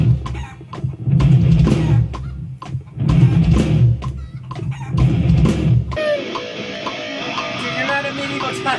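Chickens cluck in a noisy, busy setting, loud and close for the first six seconds, then the scene shifts to a different bright, tonal background.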